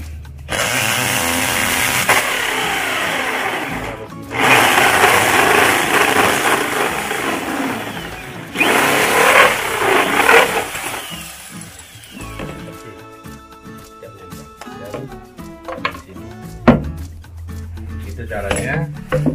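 Drilling holes into a PVC pipe for a hydroponic DFT system, with loud bursts of drill whine from roughly 0 to 4, 4.5 to 8.5 and 8.5 to 12 seconds, followed by clattering and tapping of the pipe.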